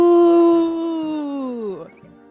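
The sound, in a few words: person imitating a wolf howl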